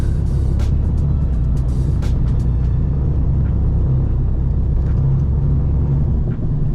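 Steady low engine rumble and road noise from inside a moving BMW M340i driving in eco mode, smooth and continuous with no talking.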